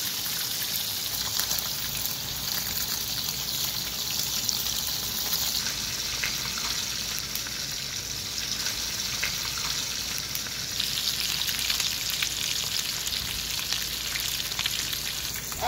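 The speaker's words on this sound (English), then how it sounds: "We're going to fry them on each side for about 3 to 5 minutes on each side." Fish frying in hot oil in a pan for Jamaican escovitch fish, a steady, soft, continuous sizzle and crackle that goes on without a break, with no talking over it.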